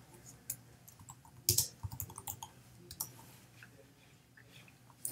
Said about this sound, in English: all you do is type in GoPro logo